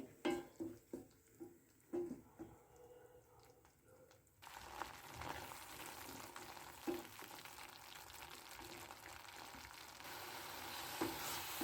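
Raw spiced coconut masala sautéing in oil in a pan, a soft sizzle with scattered stirring clicks at first, then a steadier, fuller hiss of frying that runs to the end.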